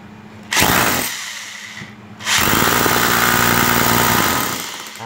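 A used Japanese power drill runs in hammer mode, a loud, close mechanical whir with a rapid hammering rattle, heard in two bursts: a short one and then a longer sustained run that winds down at the end.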